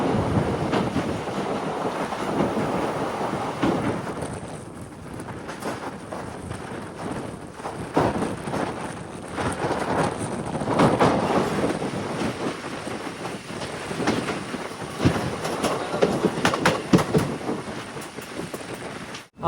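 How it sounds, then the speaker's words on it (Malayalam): A Boat Mail Express sleeper train runs on after crossing the Pamban bridge toward Mandapam, making a continuous rushing, rumbling noise mixed with strong wind. The sound is loud and steady, with surging peaks throughout. "ട്രെയിൻ ഇതാ മണ്ഡപം റെയിൽവേ സ്റ്റേഷനിലേക്ക് എത്തിയിരിക്കുകയാണ്."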